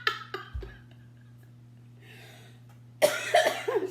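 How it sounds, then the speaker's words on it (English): A woman coughs several times in quick, close bursts, followed by a faint breath, then a louder, harsher coughing fit near the end, heard alone against a low steady hum. "Excuse my cough"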